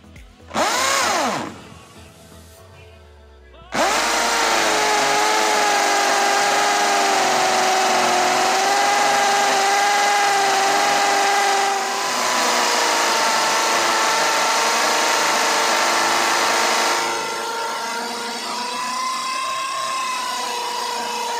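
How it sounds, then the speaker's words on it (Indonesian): A Dewalt DWD024 impact drill fitted with a 16 mm, roughly 30 cm bit starts with a brief spin, then runs loud and sustained as it bores into a wall, its tone wavering under load for about eighteen seconds. "saya menggunakan mata bor dengan diameter 16 mm"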